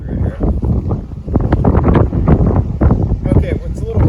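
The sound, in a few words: strong wind blowing into microphone outdoors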